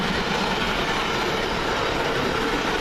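A Class 390 electric train, unit 390104, runs through on the London Euston to Manchester Piccadilly service, a loud continuous close rush of wheels and wagons that fills the whole stretch evenly.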